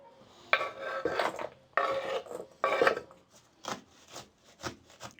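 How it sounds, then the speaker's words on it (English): Knife slicing through an onion on a cutting board, several rasping strokes in bursts followed by quicker, lighter chops, close and clear with no voices. "This onion wants to be cut too."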